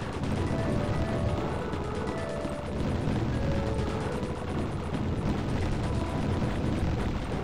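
Steady, dense barrage of cannon fire and explosions from the retro shoot-'em-up video game Tyrian 2000, a loud continuous rumble of blasts and gunfire with no pauses.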